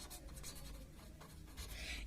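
Chalk or marker scratching across a board in a Class 10 chemistry lecture on acid-base indicators, a steady run of faint strokes with no speech over it.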